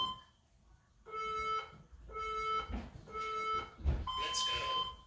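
A workout interval timer alarm sounds a series of evenly spaced electronic beeps, about one per second, ending on a longer, higher tone, with faint background noise and possible voices.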